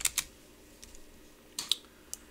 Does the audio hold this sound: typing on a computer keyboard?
yes